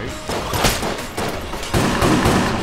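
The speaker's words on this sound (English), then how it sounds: "these are little grenades" Small grenades go off in the video game Enter the Gungeon, loud rapid bursts and blasts crackling in quick succession, with a heavier surge of explosions near the end.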